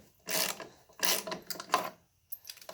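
Ratchet wrench with an extension backing a bolt out on a John Deere 4110 compact tractor during a hydraulic line change, heard as three close bursts of rapid clicking strokes separated by short pauses, with no talk over it.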